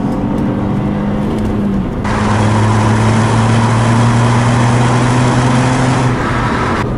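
A 2006 Saab 9-3 Aero accelerating hard in second gear, its engine droning loud and steady as the pitch climbs, with a broadband rush of wind and road noise joining partway through.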